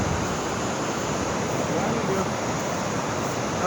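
Steady broadband surf rolls in at Cannon Beach, Oregon, a continuous wash of waves with wind, filling the whole moment evenly without breaks.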